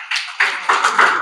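Children clap together in a classroom, with several bursts of rhythmic clapping coming in waves over about a second, close and moderately loud.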